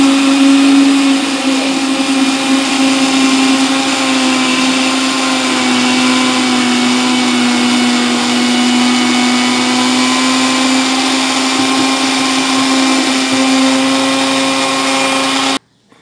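A blender runs loud and continuous, beating eggless mayonnaise made with milk and oil, a steady high whine with a low hum for about fifteen seconds before it cuts off sharply.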